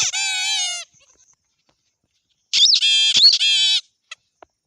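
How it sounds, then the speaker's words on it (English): A toy gives out high, warbling electronic tones in two short bursts, a longer one after a pause, ending with a couple of faint clicks. "rabbit is making sound."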